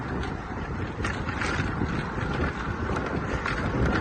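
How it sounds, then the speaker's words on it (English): Wind during a bicycle ride in Tarifa, a loud continuous roar buffeting the microphone with steady broadband rumble and faint gusty swells throughout, no voices. "The wind's picking up."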